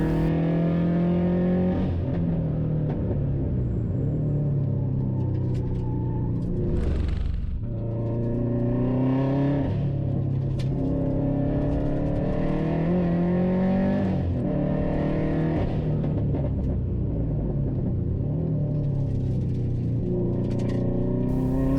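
A Subaru Legacy wagon race car accelerates hard around the Hampton Downs track in a Superlap run, its engine a loud, continuous rumbling roar that climbs through the gears with repeated rising sweeps and brief dips at each shift.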